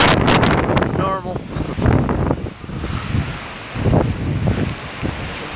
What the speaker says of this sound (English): It's been windy like this all day.